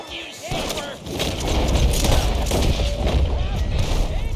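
Video game gunfire crackles in dense, rapid bursts, loud and continuous like a heavy firefight, with voices speaking over it.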